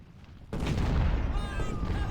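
Musket and cannon fire from a Civil War battle in the strategy game Ultimate General: Civil War, Cold Harbor, bursts in loudly after a brief quiet and then rolls on as a dense, steady roar of shooting.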